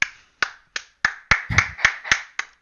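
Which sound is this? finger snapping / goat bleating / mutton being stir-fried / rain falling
finger snapping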